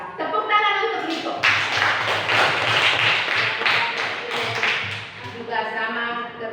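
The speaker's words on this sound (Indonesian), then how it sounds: "Tepuk tangan untuk Riko." A school class of children claps hands for a classmate, a busy burst of close, loud claps in the middle, framed by a teacher's voice before and after.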